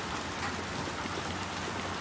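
Steady rain in the Little Nightmares 2 video game: an even, unbroken hiss of falling water that holds at the same level throughout, with no talking.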